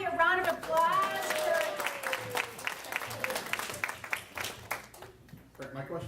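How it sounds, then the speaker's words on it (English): A speaker's voice gives way to a round of audience applause at a social media conference keynote. The clapping runs for a few seconds at moderate level before the room quiets and talk resumes. "Everybody, let's give Ivy a round of applause."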